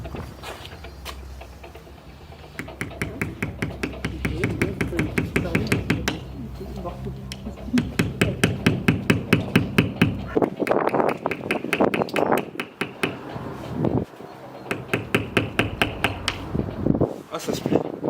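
A metal fondue pick is hammered through the thick sealant of an already broken car windshield, giving a run of sharp, fairly close knocks and taps in uneven bursts, with someone talking between and over the strikes.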